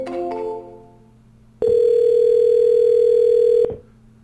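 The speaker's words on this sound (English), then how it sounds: "it's going to start dialing the phone" A power dialer program starts a phone call: a few quick dialing tones lead into a loud, steady single-pitch tone that holds for about two seconds and then cuts off.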